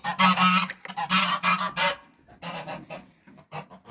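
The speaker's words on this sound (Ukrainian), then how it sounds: "Зараз гуси побачать, покричать трошки" Farmyard geese honk loudly in repeated bursts, several overlapping calls in the first two seconds, then a quieter second round of honking with short gaps, close by and without talk.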